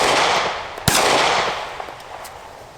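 A Taurus GX4 pistol firing, one sharp loud shot standing out near the start of a decaying ring and faint echo, followed by softer trailing sounds.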